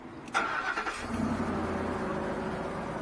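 A Ford F250 with a 6.2 litre engine cranks briefly and catches, then settles into a steady, close idle after a thermostat replacement.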